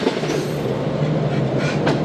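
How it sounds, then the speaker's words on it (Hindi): The Shalimar Express rolls past up close on a hot day in Pakistan, a loud, steady rumble of rail cars with rhythmic clickety-clack from the wheels on the rails and no voices. "जब ट्रेन गुजरी तो उसकी तपिश में मज़ीद इजाफा हो गया"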